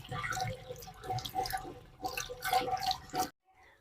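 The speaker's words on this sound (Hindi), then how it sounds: "अब आ रहा है जी गर्म पानी।" Hot water runs from a geyser tap into a sink, a steady spattering splash with drips that stops abruptly near the end.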